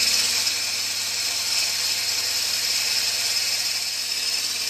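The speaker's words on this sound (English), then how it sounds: "with a whisk, we're going to whisk up those egg whites until they start to rise" Egg whites for a lemon meringue pie being whisked, a steady, loud whirring motor drone with hiss that holds evenly for the whole stretch, with no talk.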